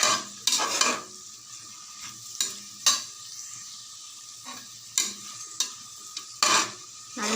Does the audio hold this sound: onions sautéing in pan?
yes